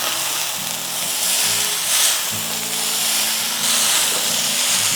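Cooked rice and pepper are stir-fried in a hot pan for a simple home-style fried rice, giving a steady sizzle and hiss broken by several louder bursts as the mix is tossed.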